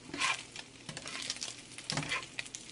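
Thin bacon sizzles and fries in a pan, a soft continuous crackle with a few louder bursts of spatter and stirring, close and alone with no talking.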